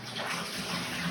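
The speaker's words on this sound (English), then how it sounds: "I'm gonna add a little bit more hot water in here to get rid of it." Hot water pours steadily into a wine kit fermenter while a Gewurztraminer kit is being filled toward the 23 liter mark. The rushing, splashing flow is continuous and fairly loud.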